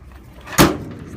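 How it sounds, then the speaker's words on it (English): A door on a 2007 Ford F550 work truck is opened nearby: one short, loud clunk of the latch and panel lasting well under a second, with a faint quiet background before and after. "opening up all the doors for me here"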